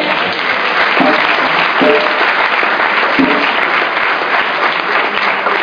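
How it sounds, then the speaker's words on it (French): A church congregation bursts into sustained, loud applause during a Sunday service, a dense, even wash of clapping that continues throughout with a few faint voices underneath. "Acclamons le Seigneur."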